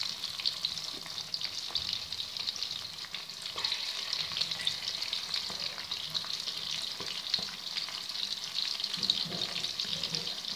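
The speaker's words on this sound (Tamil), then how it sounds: "இது நல்லா ஃப்ரை ஆகட்டும்" Quail 65 fries in hot oil, a dense, even crackling sizzle held close and steady for the whole stretch, with faint clinks of stirring and no voices.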